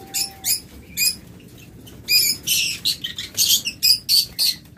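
Pet birds in a cage, including violet mask lovebird pairs, giving bursts of bright, rapid chirps in a quick series of close, sharp calls with short pauses between them.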